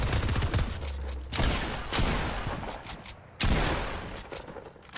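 Rapid gunfire in Fortnite, loud bursts of shots in quick succession with a few brief pauses, dense and close throughout.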